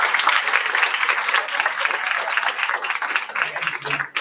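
Audience at a children's literature quiz world final applauding the tied leading teams, lively close clapping that runs for a few seconds and fades out abruptly at the end.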